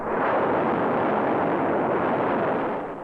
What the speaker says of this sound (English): This controlled explosion is sustained evenly by constant propellant flow rates.